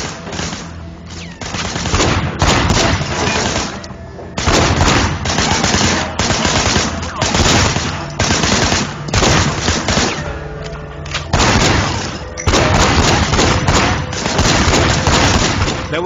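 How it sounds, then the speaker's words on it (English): Rapid automatic gunfire in a video game, loud sustained bursts with short gaps repeating across the whole stretch, close and harsh. "Shooting at the guys over there."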